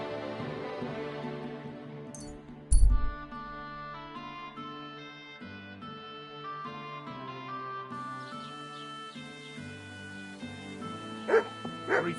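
A dog barks in the medieval video game Kingdom Come: Deliverance 2, giving a couple of short yips and whimpers over a continuous orchestral game score.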